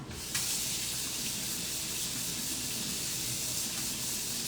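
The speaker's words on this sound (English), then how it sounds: "But now I have all this stuff on my hands, which I'll just rinse off." Hands being rinsed under a running kitchen tap while stuffing salmon, a steady close rush of water that continues unbroken from start to finish with no talk.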